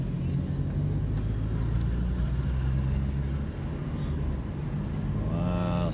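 A car driving a slow lap of Circuit Gilles Villeneuve, a steady low engine drone and road rumble throughout, with a voice briefly audible near the end.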